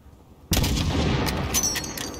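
Gunfire in the Call of Duty Modern Warfare campaign, a sudden loud shot fired at range that booms and then rolls on with echoing rumble and scattered distant cracks.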